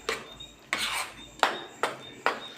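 Henna paste mixed in a bowl for a natural hair dye and mehndi, five sharp scraping clinks of a spoon against the bowl in an uneven rhythm, close and alone.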